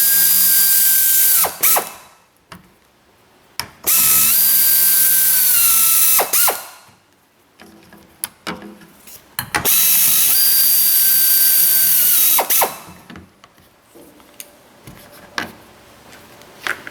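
A ratchet spins out the screws holding the fuel filler neck on a Chevrolet Silverado, loud rapid clicking bursts of several seconds each, separated by brief pauses and small handling noises.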